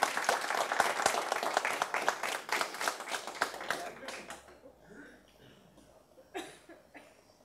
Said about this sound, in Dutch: En nog een applaus voor Ruud.